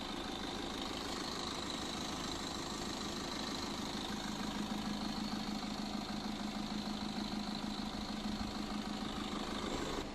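A car engine running at idle, a steady, faint mechanical hum with a slight rattle and vibration, continuous and even throughout with no talking.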